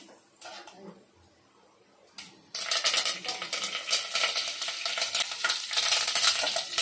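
Curry leaves and cumin drop into hot oil with mustard seeds in a pan for a dill-leaf amti, bursting into a loud, steady crackling sizzle after a couple of soft clinks, close and without talk.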